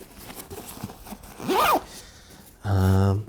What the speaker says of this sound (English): one strap you have a zipper with a small quick access compartment